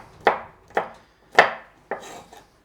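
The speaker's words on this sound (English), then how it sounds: "So I'll cut those lengthwise and then across" A knife chops vegetables into cubes on a cutting board, making four sharp, evenly spaced thwacks over a couple of seconds, close and clear with no talking.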